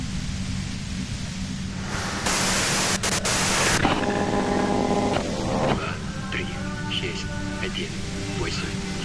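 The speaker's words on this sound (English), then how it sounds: "you can do it through the white noise" Static hiss and white noise from a radio in the Disco Elysium video game, with a louder burst in the middle and warbling tones in the second half, heard under a faint voice.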